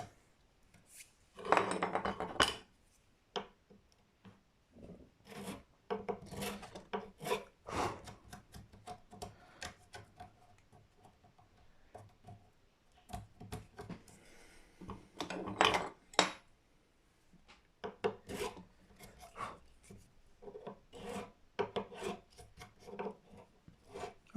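Hand file rasping on a part of a Stagg acoustic guitar during setup, in short irregular bursts of scraping strokes with pauses between, close and fairly quiet, with no talking.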